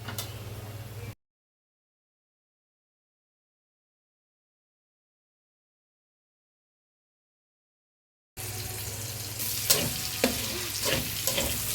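Onions frying in a pan for Ilocano-style dinuguan, a steady sizzle with stirring scrapes, cut off by a long silent gap before the crackling resumes louder with a few sharp clicks.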